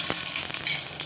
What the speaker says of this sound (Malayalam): കടുകിട്ട് പൊട്ടിക്കൊണ്ടിരിക്കുന്നു.